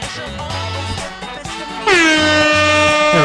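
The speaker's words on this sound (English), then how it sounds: "Do we have an air horn to go for that comment?" An air horn sound effect blares loud and close, first one shorter blast and then a longer, brighter sustained honk.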